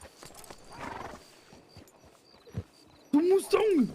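A horse in a video game whinnies loudly near the end after a few soft hoof clip-clops, with game voices talking earlier in the clip.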